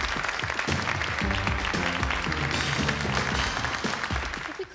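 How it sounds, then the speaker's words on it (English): An audience applauds models on a catwalk, a dense burst of clapping that swells to fill the space and then thins toward the end, with music or background sound beneath. "a nice round of applause for the boys and girls on the catwalk today"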